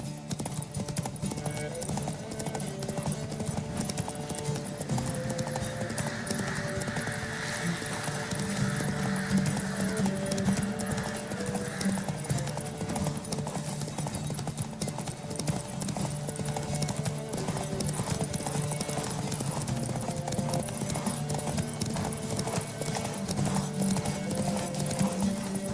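Horse galloping in The Witcher 3: Wild Hunt, a continuous rhythmic thud of hooves with an occasional brief whinny, steady and close over game ambience.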